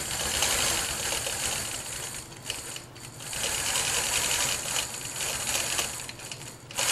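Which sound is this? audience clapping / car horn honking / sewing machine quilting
sewing machine quilting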